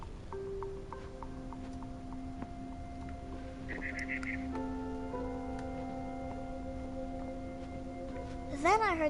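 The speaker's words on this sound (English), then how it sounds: "Then I heard chirping outside my window. It was a barn swallow going back to her nest." Barn swallow chirping in the video game What Remains of Edith Finch, short high twittering calls over sustained tonal music, with a brighter burst of chirps near the end.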